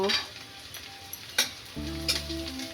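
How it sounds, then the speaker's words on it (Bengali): Onions already fried in a pan sizzle as vegetables and grated coconut go in, a steady frying hiss with a few stirring scrapes and light utensil clinks, close and moderately loud, with no one talking. "এখন আমি সবজিগুলো দিয়ে দেব নারকেলগুলো দিয়ে দেব"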